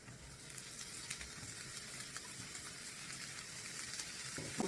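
Broccoli frying with softened onion in a pan gives a steady, bright sizzle throughout, with a few louder stirring scrapes toward the end and no voices.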